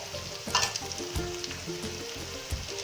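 Potatoes, beans, carrots and green chili fry in a pan with a loud, close sizzle, broken by bursts of stirring and scraping against the pan's surface.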